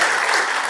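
Audience applause at a book launch, a short dense burst of many hands clapping, loud and continuous.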